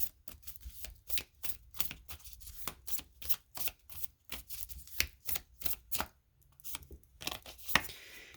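Oracle cards are shuffled by hand in repeated quick riffling bursts, close and crisp, with short pauses between and no talking.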